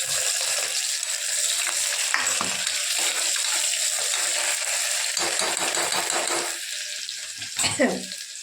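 Chillies and onions sizzle in hot oil with a bright, steady crackling hiss and occasional clinks of a utensil, and a louder scrape and rattle near the end.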